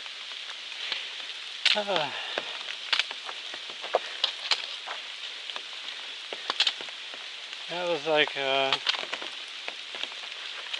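Light rain patters steadily on a hiking trail of the Appalachian Trail, a soft continuous hiss of drops, while someone talks intermittently close by.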